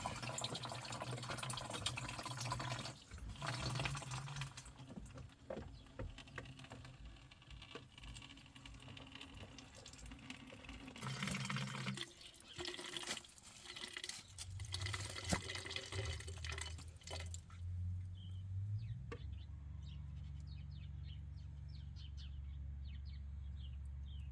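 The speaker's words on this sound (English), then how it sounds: "Let's drain it into another container here." Windshield washer fluid drains out of the reservoir into another container, a steady trickling and splashing flow that shifts to lighter dripping near the end, heard close with no talking.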